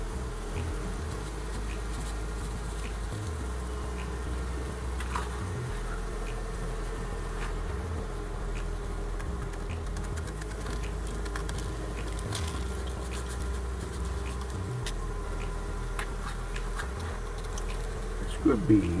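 Bees buzz steadily around a sugar feed set out for them, a dense, continuous hum of many insects close by with no talk over it.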